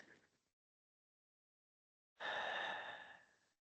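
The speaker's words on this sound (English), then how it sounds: "Take a deep breath in," Slow, deep breath during a restorative yoga session: a short exhale trailing off, a pause of quiet, then one long, full breath lasting over a second, close and clear with no talking.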